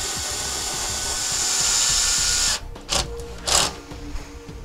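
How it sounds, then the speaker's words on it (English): A power drill drives self-tapping screws into a trailer wall to mount a helmet shelf with hanging rod, its motor whirring steadily up close before cutting off, then a few short bursts of drilling. "We're just going to be using some self-tapping screws to secure it to the wall."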